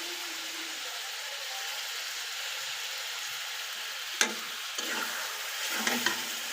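Chicken meat added to spiced masala and frying in a pan, a soft steady sizzle that jumps with a sharp hiss as pieces go in, followed by a few stirring scrapes, close and without voices.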